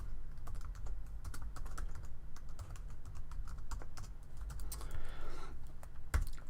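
Steady, close computer-keyboard typing while code is written for a Unity 2D game tutorial, a quick run of light key clicks with short pauses and no voice over it.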